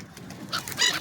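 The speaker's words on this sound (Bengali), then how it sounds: "পাখিও চলে আসছে" Pigeons flock in to eat broken potato chips on a street in Denmark, giving a brief burst of light calls and fluttering that grows louder near the end, with no talking.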